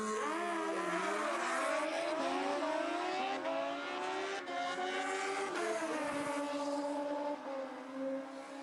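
Kawasaki ZX14 motorcycles drag racing at a drag strip event, with loud high engines screaming and shifting through the gears in overlapping rising sweeps, sustained for several seconds.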